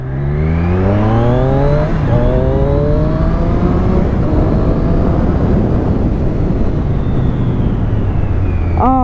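A Triumph Street Triple S 2020 motorcycle engine rises and falls in pitch as it accelerates through gears and then slows under braking, loud and continuous from up close, with no talk.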